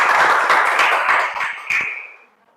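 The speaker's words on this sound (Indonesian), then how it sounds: "Oke, tepuk tangan dulu." A classroom of students in Indonesia claps together in a loud, dense burst that fades out over a couple of seconds, with no speech on top.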